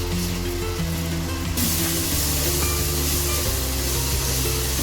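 Kashmiri red chili paste for pav bhaji sizzles steadily in a hot pan while being sautéed, a constant close frying hiss with faint stirring and low background hum, no voices.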